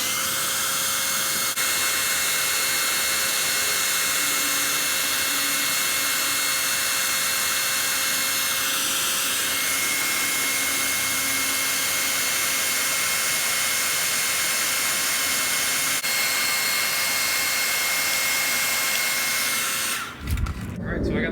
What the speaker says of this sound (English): I'm gonna desperately try using a hair dryer